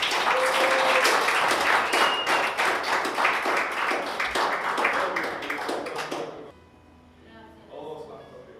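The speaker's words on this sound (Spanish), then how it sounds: "Denle un aplauso a Cristo." A church congregation applauds loudly and steadily for several seconds before the clapping cuts off abruptly, leaving a quiet room with faint voices.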